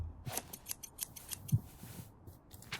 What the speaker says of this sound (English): Let's cut some of that up with the scissors then.